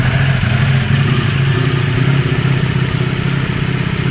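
A Ducati Streetfighter V4S motorcycle engine, recovered from a wreck, runs steadily at close range with a loud, constant mechanical drone and clatter that cuts off abruptly at the end.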